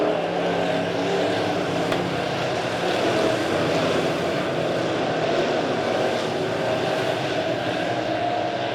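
Midwest Modified race cars roar around Springfield Raceway in a steady, loud, continuous engine drone from a distance, the field blending into one sustained rumble with no clear passes and no talking.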